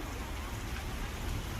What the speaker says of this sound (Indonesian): Janjan hujan sampai besok pagi.